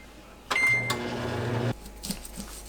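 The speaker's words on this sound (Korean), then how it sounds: "초당 옥수수 1개를 전자레인지에 3분 돌려주세요." A microwave oven heating an ear of sweet corn hums steadily for about a second with a short beep near the start, then shuts off, leaving quiet kitchen clatter.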